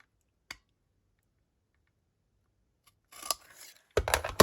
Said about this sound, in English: I might have to hand cut this one.